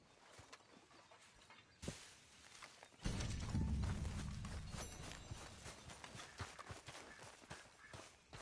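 Horse hooves clip-clop in a steady walking rhythm in the video game Red Dead Redemption 2, with a louder rumbling stretch midway and scattered clatter throughout.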